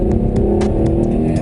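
A Hyundai Genesis Coupe 3.8 R-Spec engine gives a short, steady, gutsy drone heard close up, with a faint pulsing texture and no clear rise in revs.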